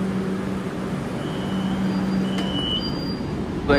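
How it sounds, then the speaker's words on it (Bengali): Metro train on the Airport to Noapara line running, a steady low rumble and rolling drone with a faint tonal whine, continuous and fairly loud from inside or near the train, no talk. "যেমনটা কি দেখতে পাচ্ছ মেট্রো কিন্তু চালু হয়ে গেছে"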